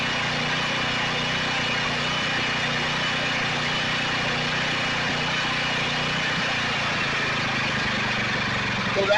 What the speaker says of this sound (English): So that idle control idles it down.